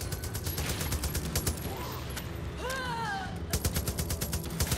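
Gunfire and explosions in Far Cry 5's zombie mode: rapid bursts of shots crackle repeatedly, mid-distance and fairly faint, with a brief whooshing sweep mid-sequence.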